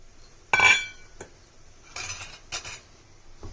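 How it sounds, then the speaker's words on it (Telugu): A spoon clinks against a kadai as semolina (rava) fries in ghee on low heat, with a few sharp metallic taps spaced across a quiet background. "అదే బాండీలో ఇంకో 2 స్పూన్లు నెయ్యి వేసుకొని రవ్వ వేపుకుందాం."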